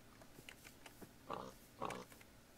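A pig oinks in the video game Minecraft, with two distinct grunts about half a second apart. Faint clicks and keyboard tapping run underneath.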